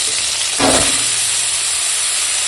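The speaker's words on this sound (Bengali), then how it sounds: "এখন এই লঙ্কাটা তেলের উপর দিয়ে দিলাম দিয়ে এখন দিয়ে দেবো এই মূলো শাক" Chili and radish greens drop into hot oil with a sudden loud sizzle, and then a steady, strong hiss of frying continues close by.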